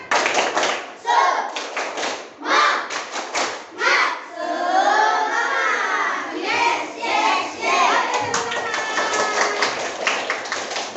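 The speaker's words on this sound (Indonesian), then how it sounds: "Kita melakukan tepuk semangat." Classroom of young children standing to do a rhythmic 'tepuk semangat' clap chant, bursts of patterned clapping alternating with children's chanting voices, close and lively.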